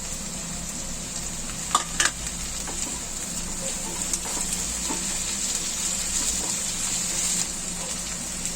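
Chopped tomatoes with green chillies fry in a pan for kanda poha, giving a steady moderate sizzle with a few light stirring clicks throughout.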